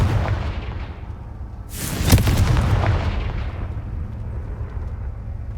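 A Confringo spell explosion in Hogwarts Legacy, one sudden loud blast about two seconds in that rolls into a sustained rumbling roar and slowly fades over a steady low background.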